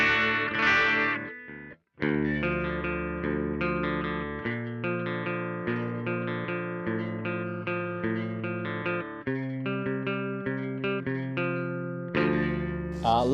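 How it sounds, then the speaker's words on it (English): A bass guitar runs through a SansAmp GT2 pedal on its Tweed amp model, giving a warm, slightly driven tone as a steady sequence of plucked notes and a short riff play close and alone. "This is what the bass tone sounds like."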